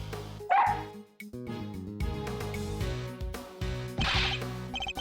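A dog in Ace Attorney Investigations 2 gives several loud, close bow-wow barks and yips over steady game music, with a clicking zipper-like rustle partway through.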